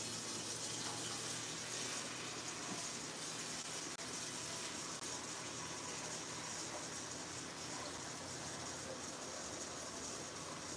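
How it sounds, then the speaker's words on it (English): Water running steadily from a tap into a cooking pot, a continuous, even hiss and splash lasting throughout without pause, close and fairly loud. "I'm gonna get a pot with water and put it to boil."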